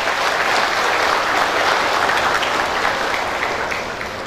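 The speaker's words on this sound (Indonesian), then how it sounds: "marilah kita berikan tepuk tangan yang panjang dan meriah kepada para wisudawan" Graduates at a Poltekkes Kemenkes Banjarmasin diploma ceremony receive long, lively applause from a large hall audience, a steady wash of many hands clapping that slowly fades toward the end.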